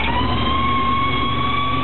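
Steady mechanical drone of the fire pump running on a 1980 Dodge W300 fire truck, with a constant engine hum and a sustained whining tone, continuous and close without any talk.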